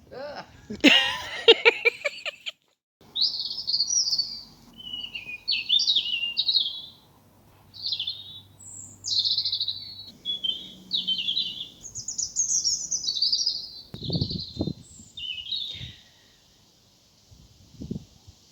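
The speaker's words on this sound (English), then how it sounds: "that blackbird in the background is one of the loveliest things about living here" A blackbird sings in a garden during a late-May evening, clear fluting phrases repeated across the stretch with short pauses, fairly near and prominent, with a brief voice or laugh at the start and a few soft knocks later.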